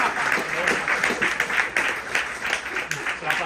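An audience applauds at a bookshop talk, with steady close clapping that lasts a few seconds while voices speak over it.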